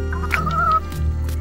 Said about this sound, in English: Let's get these chickens.